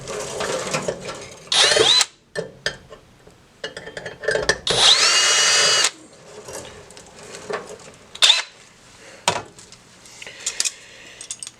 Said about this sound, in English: Now I'm gonna up drill the hole to the 1/8 inch for